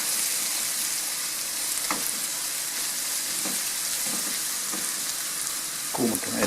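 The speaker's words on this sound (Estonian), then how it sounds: "Kuumutame need kurgid ka läbi." Pickled cucumbers sizzle steadily as they heat in a pot for rassolnik soup, a continuous close frying hiss with occasional soft stirring clinks.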